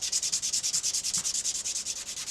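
Sandpaper is rubbed back and forth along a sword blade in a steady, rapid rhythm of short rasping strokes, about a dozen in a row, close and moderately loud with no talk.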